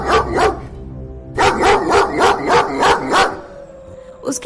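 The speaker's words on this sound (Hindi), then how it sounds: "वो कुत्ता वहाँ से नहीं जाता है और भौंकता ही रहता है" A dog barks repeatedly in a cartoon village story, two quick barks followed by a run of five or six loud, evenly spaced barks close by, with no talking over them.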